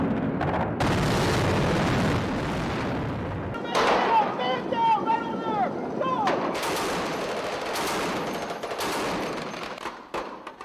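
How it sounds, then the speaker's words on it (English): Cruise missile strikes on buildings in the Iraq War: loud, dense blasts and rumbling gunfire-like bursts run throughout, with sharp repeated cracks and ringing echoes in the middle, and faint voices beneath. "They're taking out whole buildings with these cruise missiles."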